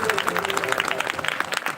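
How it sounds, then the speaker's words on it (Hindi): Loud applause from the audience at a two-day village Manas singing festival in Arjuni, a dense continuous burst of clapping. "उकर पर जोरदार ताली बजाना चाहिए।"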